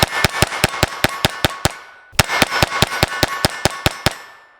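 Glock 44 pistol fired at steel targets: two quick strings of sharp, evenly spaced shots with ringing metallic tails, eight or so per string, separated by a short pause.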